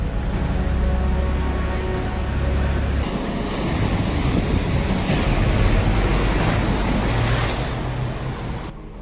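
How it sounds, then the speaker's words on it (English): Powerful floodwater rushes and slams against a truck, a loud, steady broadband roar of churning water that swells and holds for several seconds with no voices. "The powerful rush of water slammed against the vehicle"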